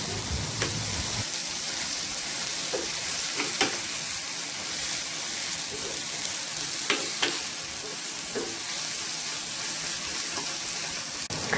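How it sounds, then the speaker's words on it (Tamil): Water spinach and onion are stir-fried with a garlic mixture, a constant dense sizzle filling the background with occasional spatula clicks and scrapes against the pan, steady and close throughout. "இப்போ நல்ல வெங்காயமும் கங்கோங் கீரையும் அவிஞ்சிட்டு அதுக்கு நாங்கள் அப்போ செய்து வச்ச அந்த உள்ளி மிக்சரை போட்டு நல்லா மிக்ஸ் பண்ணி விடுவோம்."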